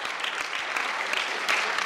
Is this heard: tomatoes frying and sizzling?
no